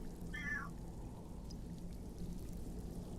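A cat gives a single short meow near the start, faint against a steady background hiss, during a Skyrim roleplay session; the rest is quiet ambient noise.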